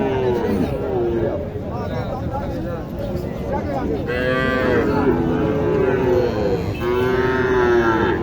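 A crossbred cow, a Sahiwal cross, moos repeatedly at a busy cattle market in Naogaon. Several long, loud lowing calls rise over steady crowd babble and nearby talking.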